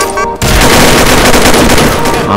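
Loud, rapid video game gunfire bursts in after a brief moment, a dense sustained volley of shots close up.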